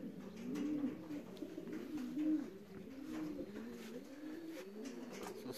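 Soft, rolling coos from a racing pigeon at a club loft after a long-distance race, repeated in an even rhythm at close range, with quiet ambient noise and no speech.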